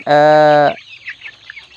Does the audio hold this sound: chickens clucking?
yes